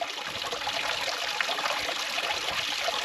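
Water runs steadily from a campsite tap on the Isle of Skye, a continuous close splashing hiss with no pauses and no voices.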